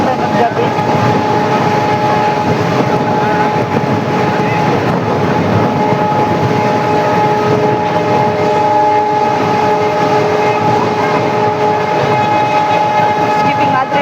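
A WDP4B diesel locomotive hauling the Bandra–Veraval train rolls loudly and steadily through a station, its engine drone and wheel rumble continuous, with a sustained horn tone running throughout.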